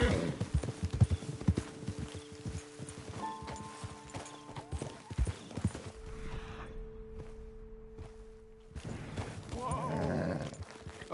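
Horse hooves clip-clop in Red Dead Redemption 2, steady and fairly close on a road. Occasional neighs and a man's speech come through, and the hoofbeats carry on alone between them.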